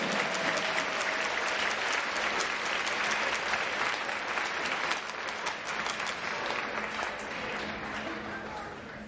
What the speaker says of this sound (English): Give a round of applause from Sergeant First Class Kevin Doherty